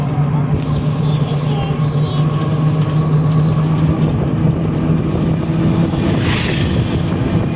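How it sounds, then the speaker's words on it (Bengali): Strong outdoor wind buffets the microphone in a steady, loud low rumble throughout, with faint traffic-like noise underneath during an outing in Atroshi. "এত বাতাস।"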